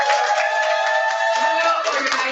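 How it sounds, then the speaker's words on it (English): Audience applause for a facilitator at an open dialogue event: a short, steady burst of clapping that holds at a fairly even level for about two seconds. "So if you give up a round of applause for Moyo."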